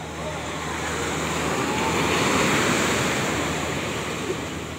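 Steady roar of surf washing in at a beach in Nasugbu, Batangas, broadband and continuous, swelling slightly midway, with some wind rumble mixed in.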